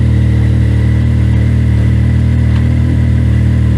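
A 2019 Can-Am X3 side-by-side with a P Drive clutch idles in low gear, a loud, steady, close engine drone with no change in pitch and no talk.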